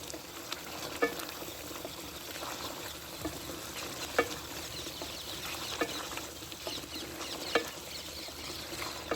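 Masala for aloo gosht, a mutton and potato curry cooked in ghee, stirred and sautéed in a pot, a steady close sizzle broken by sharp scraping clicks every second or two.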